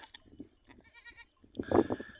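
A goat that has just given birth bleats in a few short, moderately loud calls near the end, after quieter shuffling and faint background sounds.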